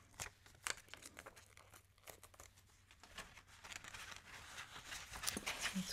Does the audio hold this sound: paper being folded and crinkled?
yes